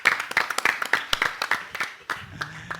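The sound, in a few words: audience applause for the winning team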